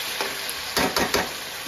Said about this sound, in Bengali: মাংসটা অল্প ভাজা হয়ে গেছে